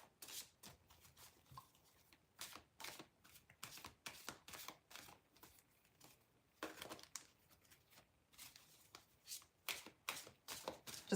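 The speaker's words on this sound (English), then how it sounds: "I like to shake my cards or shuffle my cards really well in between everyone." Tarot cards are shuffled by hand in repeated bursts, crisp riffling and slapping sounds close up, broken by short pauses between rounds, with no talk over them.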